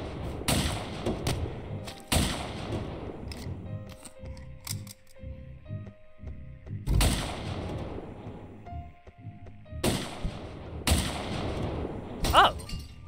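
Bursts of gunfire in the video game Of Murder and Moonshine, several sharp loud volleys spaced across the stretch with quieter clicks and game noises between them.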